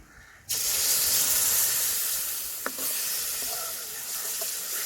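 Milk poured into a hot pan of walnut halwa bursts into a sudden loud hiss and bubbling sizzle that holds steady, with a few light clinks of a utensil along the way.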